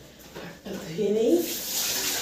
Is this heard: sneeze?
no